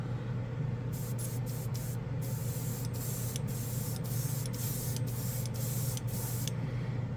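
Under-base black paint is sprayed from an airbrush or spray gun at 15 PSI in a steady, close hiss, broken by a series of short, sharp bursts as the trigger is pulled and released repeatedly.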